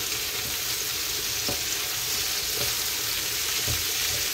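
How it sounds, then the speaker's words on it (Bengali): Beans and potatoes frying together in a pan, giving a steady, close sizzle throughout with a few soft stirring knocks, no voices. "এখন বটবটি আর আলু একসাথে বাজি করবো, এটা দিয়ে দিলাম।"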